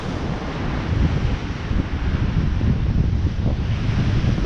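Stormy sea waves pound against the Blackpool sea defence in a continuous loud roar of surf, with wind buffeting the microphone throughout.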